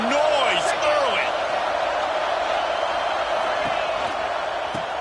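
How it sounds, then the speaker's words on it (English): A college football stadium crowd at Louisville hosting Georgia roars steadily and loudly throughout, with scattered whoops and whistles, under a commentator's talk. "This crowd bringing the energy and noise early."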